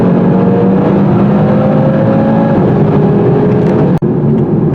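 A 2018 Audi TT-RS turbo engine pulling hard uphill on a tight mountain road, a loud, steady in-cabin drone with rising tone, then a sudden brief dip as if shifting gear.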